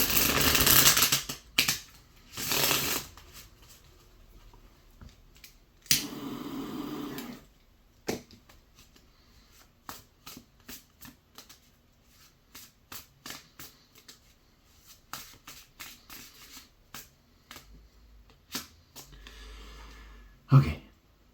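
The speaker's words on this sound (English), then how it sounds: "Let's give this a bit of a shuffle." A deck of Oracle of the Radiant Sun oracle cards is shuffled by hand in loud riffling bursts, followed by a long run of soft, irregular card slides and taps, close up.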